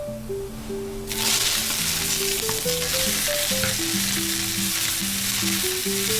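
Chopped onion and chili hit a hot frying pan with a sudden loud sizzle that settles into steady crackling frying, while light background music plays throughout.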